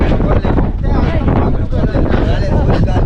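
Loud, gusty wind buffeting the microphone in a constant rumble at a fishing harbour in Vizag, with people's voices partly audible beneath it.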